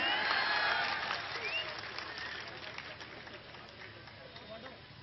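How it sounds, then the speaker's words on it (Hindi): Crowd applause at a politician's rally speech, a broad wash of clapping loudest at the start and tapering to a steady murmur, with speech-like voices mixed in. "ठोको ताली।"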